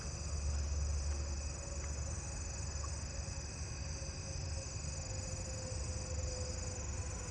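Lesser anglewing katydid calling amid a steady wash of night insects in a suburban neighbourhood, a continuous high buzzing chorus with faint distant ticks, no voices.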